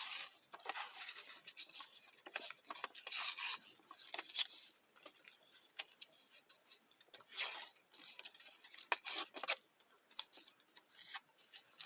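Paper torn by hand to make torn lace, a series of close, dry ripping bursts of varying length separated by short pauses.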